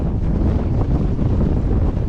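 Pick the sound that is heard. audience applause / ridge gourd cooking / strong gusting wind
strong gusting wind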